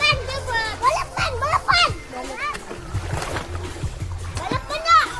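Children shout and chatter while playing and splashing in water, with irregular close splashes mixed under overlapping kids' voices throughout.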